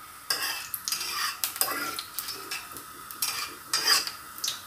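Panch phoron spices sizzle in a hot iron wok, sharp crackling bursts alongside scraping and stirring from a utensil, fairly loud and close with no talking.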